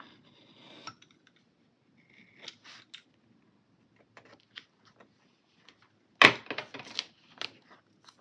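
Scissors snipping through paper while assembling a junk journal spread, giving sparse, quiet cuts and small rustles, then one sharp, louder crunching snip followed by a quick run of close crisp cuts, with no talking.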